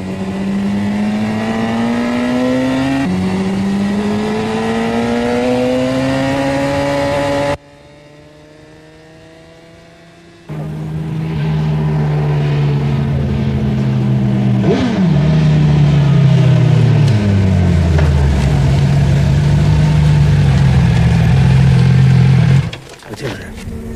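Motorcycle engines on a racetrack, throttle rising and falling in long whining sweeps, loud and close, with a brief quieter stretch before a heavy pass and a deep downshift.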